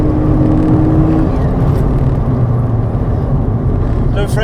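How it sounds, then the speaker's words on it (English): A modified Ford Fiesta ST accelerates hard, its loud, busy engine roar filling the cabin, with a thin turbo whistle rising near the end. "you can hear that turbo spooling up"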